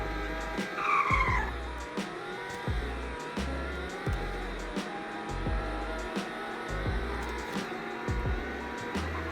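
A fast car that reaches 60 in 3.4 seconds and 100 in 8.3 seconds is put through a full-throttle 0 to 100 run. The engine roars close with repeated surging pulses, and a brief squeal comes near the start.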